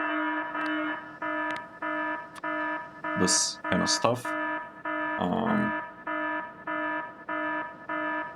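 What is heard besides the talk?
alarm alert sound in the video game Factorio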